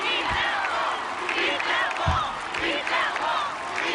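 A crowd at an American Ninja Warrior obstacle course cheers and roars steadily, with the noise rising in waves, while a commentator talks over it.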